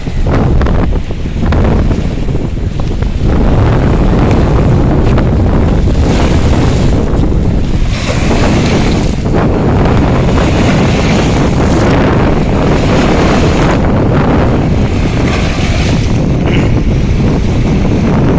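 Strong, constant wind roars over the microphone while sea waves crash and surge at Puttalam on an evening shore, loud and close, with no talking.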